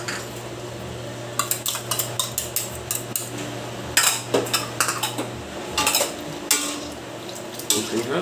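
A utensil stirs pork belly hamonado in a pan, scraping and clinking in irregular strokes over a low steady simmer, close and fairly loud.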